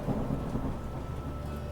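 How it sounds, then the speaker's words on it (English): A thunderstorm with rain approaches, a low continuous rumble of thunder under a steady hiss of rainfall, fairly quiet and distant-sounding, with no voices. "You start to hear the thunderstorm getting closer."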